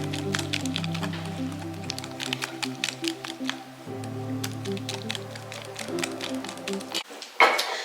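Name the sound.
mixing the mixture in a bowl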